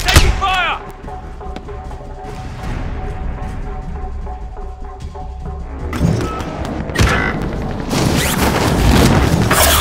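Gunfire and explosions in Call of Duty: Warzone, loud close shots and booms scattered through the stretch, building into dense heavy firing near the end, with brief voice callouts mixed in.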